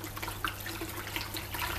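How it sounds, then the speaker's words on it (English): Calcium hardener is sloshed around in a bucket of water to dissolve it, giving a steady, close wash of swirling, splashing liquid with no voices. "Now obviously you just dissolve that by sloshing it about"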